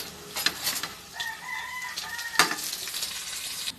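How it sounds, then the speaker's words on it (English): Onion sautés in oil in a pan with a steady close sizzle, broken by a few louder stirring scrapes and sharp clinks, and no one speaking. "And right now, I am going to saute this onion."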